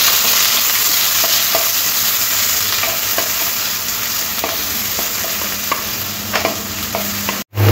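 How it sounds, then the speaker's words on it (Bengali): Four medium chopped onions sizzle and crackle in hot oil with a bay leaf and dried red chillies, a steady close frying hiss with occasional stirring clinks, alone without voices. "ফোড়নটা হয়ে আসলে দিয়ে দেবো কেটে রাখা পেঁয়াজ।"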